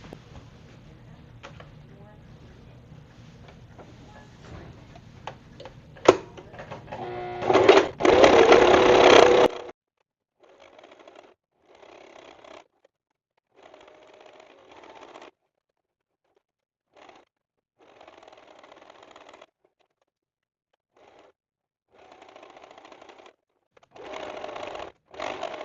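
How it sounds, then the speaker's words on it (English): Sewing machine quilting a pink fabric pouch, stitching in short intermittent runs with pauses between them, close and mechanical, after an earlier stretch of handling noise and a louder burst. "So I'm going to take all of my fabric to the sewing machine and start sewing."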